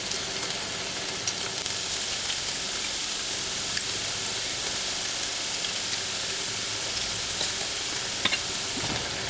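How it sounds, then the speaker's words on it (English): Garlic and onions sizzle in a pot as they are stirred for a tomato pasta dinner, a loud, dense, steady frying hiss with faint scraping clicks from the stirring throughout. "I'm going to stir the garlic into the onion there"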